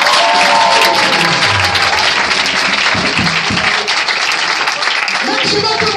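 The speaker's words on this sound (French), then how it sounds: "Est-ce que tu peux acclamer le Seigneur?" A church congregation applauding to acclaim the Lord, with loud dense clapping that fills the room throughout, mixed with crowd voices and cheering.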